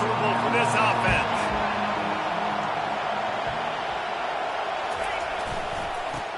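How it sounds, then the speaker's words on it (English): A football stadium crowd at a Notre Dame game roars in a broad, steady wash of noise, loud throughout and slowly easing, with a commentator talking over it. "This crowd trying to make life miserable for this offense."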